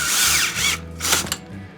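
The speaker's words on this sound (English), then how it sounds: "we're just gonna get the drill in there, tighten that up." A power drill drives a 12mm socket to tighten the steering stem nut on a Yamaha Raptor 660 ATV, with short close bursts of whirring that stop and restart.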